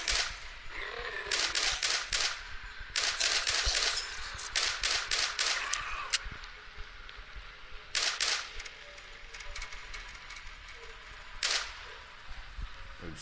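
Bursts of rapid gunfire in a zombie video game, clustered volleys of sharp shots separated by pauses, with a few isolated single shots.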